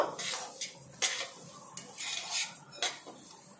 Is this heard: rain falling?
no